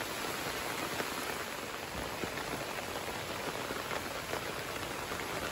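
Steady rain falling on a road, a dense even hiss of drops with occasional louder patters, continuous throughout with no voices.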